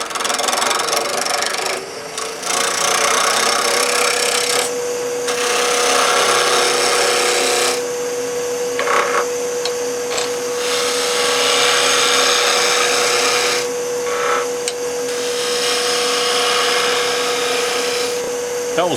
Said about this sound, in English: I'm going to start with a roughing gouge. Just a 3/4 inch roughing gouge, speed about 1500,